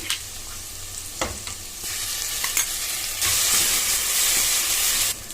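Peas and spice paste fry and sizzle in a pan for a beans curry, with steady hissing and a few sharp stirring scrapes, growing louder partway through as the paste goes in.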